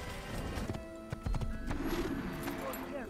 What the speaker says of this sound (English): I'm gonna steal this man's horse